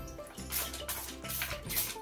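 A mixture of pine cleaner and baking soda is poured into a toilet bowl in a home bathroom, giving faint splashing and trickling water sounds in a few uneven bursts.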